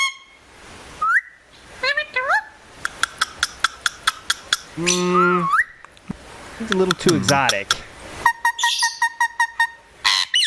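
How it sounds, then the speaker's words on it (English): Recorded ringneck parrot calls play in a rapid varied series of whistles, squawks and repeated sharp chirps, loud and close, and a voice speaks briefly among them. "ringneck parrot. I will play that for the court now."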